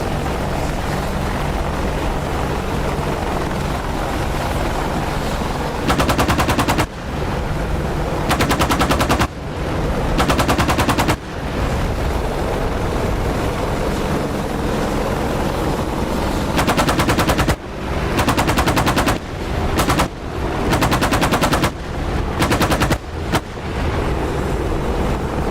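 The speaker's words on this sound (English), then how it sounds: "he's just having fun shooting at the ground" An aircraft's gun strafing the ground in the DCS flight simulator game: several loud bursts of rapid automatic fire over a constant engine and wind drone, each burst lasting a second or two.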